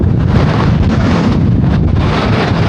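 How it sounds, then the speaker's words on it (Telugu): Strong, gusting wind roars against the microphone in a continuous heavy rumble, like a storm blowing across open water, during a storm with rain on rough sea off Lakshadweep. "అబ్బా వర్షం గాలి అసలు ముందు చూడండి ఎలా ఉందో."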